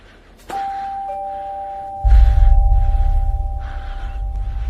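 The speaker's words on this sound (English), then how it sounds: "y'all got a lock that has a jingle" An electronic door lock plays a short chiming jingle when activated, two sustained tones ringing close and clear over a low background rumble, with no speech.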